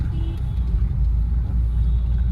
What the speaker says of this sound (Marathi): ट्रॅफिक संपते असं वाटतं पण संपत नाहीये. गाड्या ह्या येतच राहणार.